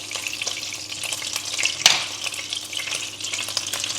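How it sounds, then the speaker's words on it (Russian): Steady crackling sizzle of duck breasts frying in a hot pan, close by, with occasional scraping stirs and one sharp louder pop. "продолжаем жарить остальные наши грудки"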